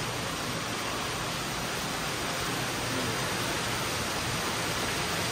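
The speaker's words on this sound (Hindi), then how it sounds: "रास्ते में आते आते हमें मिला एक झरना बहुत ही शानदार है छोटा सा पर बहुत ही शानदार है" A small but tall roadside waterfall on a mountain road trip toward Shimla, heard as a constant, loud, even rushing hiss of falling water with no other sounds.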